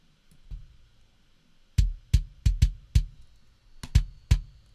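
A kick drum with the 600 to 800 hertz range cut by EQ sounds out as a few scattered soft thuds, then a run of about eight punchy low hits in an uneven pattern, with no voices.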